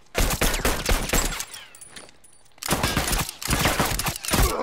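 Gunfire in a video game, with a sawed-off double-barrel shotgun mentioned, dense bursts of rapid shots in two long clusters separated by a brief lull, loud and close.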